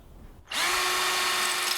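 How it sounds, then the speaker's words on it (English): A power drill spins up and runs steadily while pre-drilling holes in wood for rafter ties, soffit and fascia on a workshop build. The whine is loud and close and starts abruptly after a short quiet lead-in. "I'm going to be pre-drilling some holes here"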